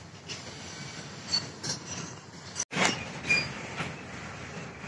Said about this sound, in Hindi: ये तुगलकाबाद का डब्ल्यू ए पी वन जो कि रेयर है